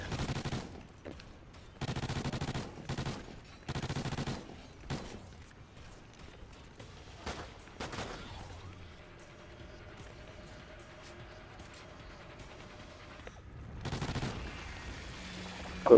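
Bursts of rapid gunfire with basic standard ammo in a Call of Duty match, several loud repeated volleys early on, then scattered shots and mechanical clicks with game ambience, and a final burst near the end.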